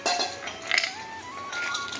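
Four heavy metal cooking vessels clink and knock against each other in a few bright, ringing strikes up close, with no talking over them.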